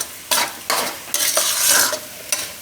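Flour roasting in ghee for winter sukhdi, stirred in a pan: bursts of scraping, sizzling stirring strokes come in several close, loud passes with brief pauses between.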